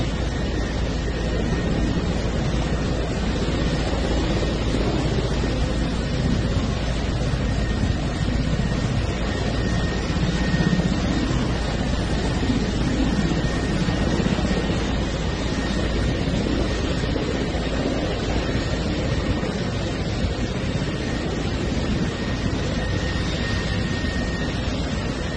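A government helicopter in flight during the Bangladesh Prime Minister's departure gives a loud, unbroken roar of rotor and engine noise. It holds steady for the whole stretch, with no voices over it.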